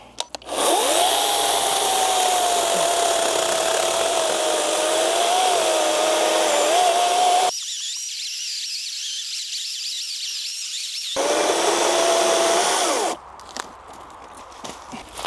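A Dnipro-M DCS 201 BC cordless chainsaw whines loudly and steadily as it cuts through a dry oak stump, pausing for a few seconds before resuming, then stopping.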